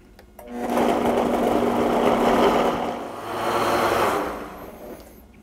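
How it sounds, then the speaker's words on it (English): Blender pureeing cream of broccoli soup on a low setting, a close motor whir that rises, dips briefly and swells again before stopping. "So turn my blender on, start at number one, start at low, and then I'll increase the speed"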